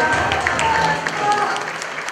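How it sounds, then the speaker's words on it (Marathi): An audience at a Ramai and Ambedkar Jayanti award event claps together in a short, dense burst of applause, heard from nearby over a couple of seconds with a voice faintly in the background. "जोरदार टाळ्या वाजवा आपण"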